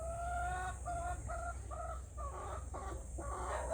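Brahma chickens in a backyard flock cluck in a run of short repeated calls, fairly close but soft, over a low steady background hum with no one talking.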